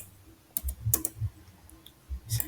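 Keys pressed on a computer keyboard while working in Microsoft Excel, a handful of sharp, close clicks spaced irregularly over a quiet background, without speech.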